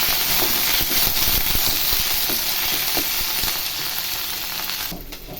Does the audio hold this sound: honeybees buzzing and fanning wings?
no